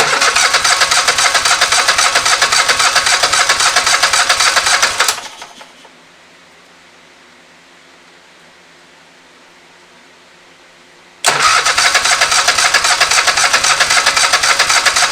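Kohler engine with no muffler on a Scag Tiger Cub mower fires up and runs loud and raw for about five seconds, cuts out to near silence, then roars back to life and keeps running hard.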